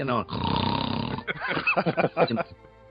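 A voice makes a long rattling snore-like inhale, then drawn-out grunting snorts, imitating snoring, before trailing into quiet.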